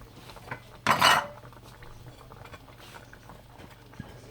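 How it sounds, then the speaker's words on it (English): A utensil stirs a Thai stir-fry in a pan, giving one short, loud clatter near the start. Faint taps and light scraping follow in a quiet kitchen. "I'm going to stir this up, and then I'm going to go ahead and add our lentils to this"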